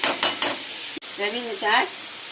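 Okra curry with tomato and onion is stirred in a pan, a spoon scraping steadily through the sizzling vegetables, close and clear with no talk.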